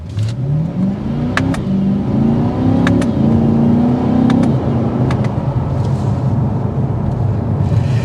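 A 2023 Chevrolet Corvette Stingray accelerating hard on a test drive, its engine climbing in pitch through several gear changes, loud and close from inside the car, with no talk.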